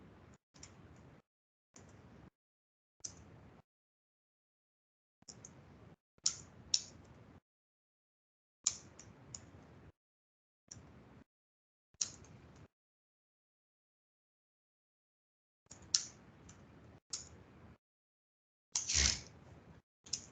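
Code typed on a computer keyboard in short, faint bursts of rapid key clicks separated by silent pauses, with a few louder keystrokes, no talking.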